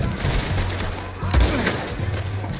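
Gunfire in the video game Red Dead Redemption 2 forms a dense, continuous rumble of shots and booms close up, layered with game noise.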